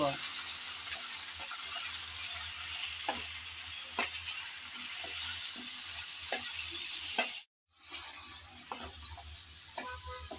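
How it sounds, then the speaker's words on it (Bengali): Eggplant frying in oil while being stirred, with a constant loud sizzle and intermittent spatula scrapes, a brief dropout near the end, then more sizzling. "কিছুক্ষণ নেড়ে চেড়ে হালকা করে বেগুন ভেজে নিলাম।"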